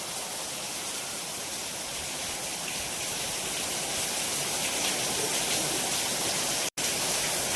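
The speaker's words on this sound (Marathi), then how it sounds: "जेवढी उष्णता होती तेवढा पाऊस येत असतोय बघा. कसा बदा बदा बदा पडतोय." Heavy rain pours down in a dense, unbroken roar of hissing water, loud and steady throughout, with one brief cut-out near the end.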